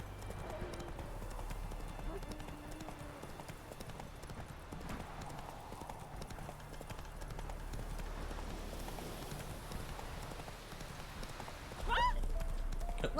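Steady clip-clop of horse hooves in a video game, moderately loud and continuous, with a brief neigh-like sound near the end against low background noise.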